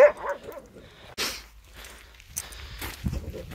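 Dogs out on open moorland give a few sharp, loud barks spaced a second or so apart, close to the listener, with rustling footsteps and movement between them.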